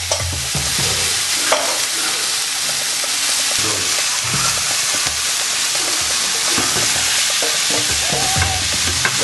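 Tomatoes and onions pan toasting for yam pottage, a loud continuous sizzle and frying crackle with occasional stirring scrapes, close up and without talk.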